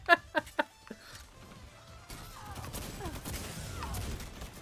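Gunfire in the game Destiny 2: three sharp shots in quick succession at the start, then a softer, busier stretch of game noise and clatter.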